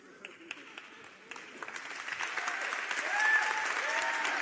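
Audience applause at a science talk, starting as scattered individual claps that build into fuller, denser clapping by the end, with a voice speaking over it.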